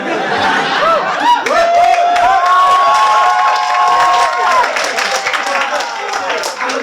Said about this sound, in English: the cheering made it all better